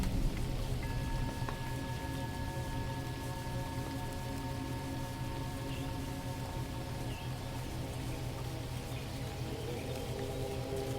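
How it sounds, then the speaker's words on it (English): Gentle, steady rain falls in a soft, unbroken patter with an even rhythm, with a faint high tone running through part of it and no voices. "The rain continues, the same gentle rhythm"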